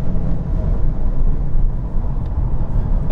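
Steady, loud low engine and road rumble from a Lexus IS 300h F Sport hybrid driven hard on a circuit, with no clear change in pitch across the short stretch.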